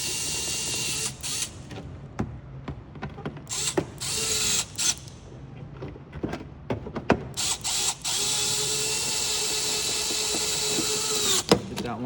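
A long bolt is driven home for a third brake light install with a 2.5mm driver, a steady mechanical whirring broken by repeated clicks and short clicking bursts up close, with no talking.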